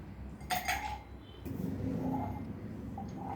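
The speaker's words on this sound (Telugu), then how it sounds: "ఇప్పుడు ఇందులో ఐస్ క్యూబ్స్ వేసుకోవాలి" Ice cubes clink and rattle against a hard mixer jar while making watermelon juice, a quick cluster of sharp knocks followed by softer shifting clatter, close by.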